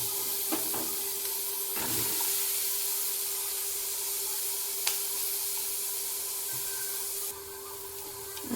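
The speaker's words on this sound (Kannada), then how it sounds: "ಇವಾಗ ಹಸಿಮೆಣಸಿನಕಾಯಿ ಮತ್ತು ಈರುಳ್ಳಿ ಹಾಕ್ಕೊತಿದ್ದೀನಿ." Green chillies and onion fry in a pan for chutney, a steady close sizzle with a few sharp stirring scrapes against the pan and no talk.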